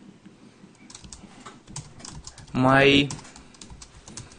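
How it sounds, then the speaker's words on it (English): Computer keyboard typing a Ruby on Rails command, soft scattered key clicks nearby, interrupted by a short stretch of speech partway through. "Go ahead and type Rails new, and the project name is going to be"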